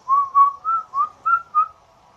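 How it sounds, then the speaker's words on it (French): A character whistles a short tune in Pokémon Ultra Moon: six bright, evenly paced notes of a clear melodic whistle, loud and close, with no talk over it. "Ah, sifflotte"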